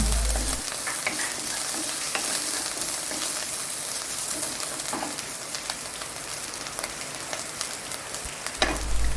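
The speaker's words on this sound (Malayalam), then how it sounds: "ഇഞ്ചി വെളുത്തുള്ളി പെരിഞ്ചീരകം കുരുമുളക് ഇതെല്ലാം കൂടി ഒന്ന് ചതച്ച് വെച്ച മിക്സാണിത് അതിട്ട് കൊടുത്ത് നമുക്ക് നന്നായിട്ടൊന്ന് വരട്ടിയെടുക്കാം" Crushed ginger, garlic, fennel and pepper sautéed in a pan for egg curry, a constant crackling sizzle broken by occasional scraping strokes of a spoon.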